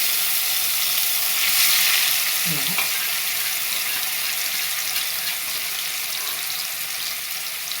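Grated carrot for carrot halwa fries in a pan, giving a loud, even, dense sizzle with one brief scrape of stirring near the start.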